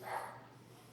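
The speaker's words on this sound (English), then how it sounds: "that's my dog barking in the background" Dog barking in the background: a single brief, faint bark rising early, then fading into quiet room noise.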